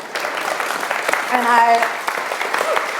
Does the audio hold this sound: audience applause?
yes